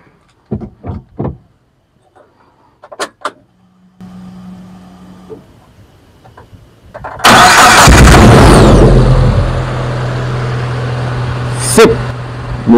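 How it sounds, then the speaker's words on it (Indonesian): After a few clicks and knocks, the engine of a Suzuki APV Mega Carry with a newly replaced relay cranks and catches, then settles into a loud, steady idle close by. "Mesinnya udah hidup ya teman-teman ya."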